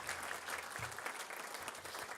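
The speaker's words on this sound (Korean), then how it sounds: "박수 한번 해주시기 바랍니다" A church congregation applauding together after a couple is welcomed back, a steady wash of many hands clapping at moderate level through the whole stretch, with no voices over it.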